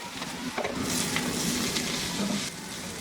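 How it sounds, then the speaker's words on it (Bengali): Bitter gourd and shrimp frying together in a pan, a short, steady close sizzle with light stirring scrapes and no speech. "মিনিট খানে ভেজে নিলাম"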